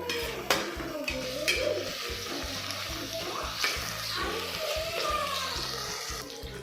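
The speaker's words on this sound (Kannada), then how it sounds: "ಕೊರಿಯಂಡರ್ ಸ್ವಲ್ಪ, ರೆಡ್ ಚಿಲ್ಲಿ ಎಲ್ಲ ಹಾಕೊಂಡು ಚೆನ್ನಾಗಿ ಫ್ರೈ ಮಾಡ್ಕೊಳ್ಬೇಕು" Coriander and red chilli frying in a pan for a horse gram bassaru palya, a steady sizzle with repeated stirring scrapes and clinks of a utensil against the pan, fairly close.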